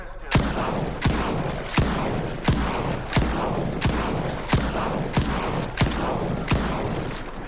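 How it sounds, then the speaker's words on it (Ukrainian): Regular rifle shots in S.T.A.L.K.E.R. 2, about one every 0.7 seconds, each a sharp loud crack over a steady low background hum. "З цього раму 10 пострілів."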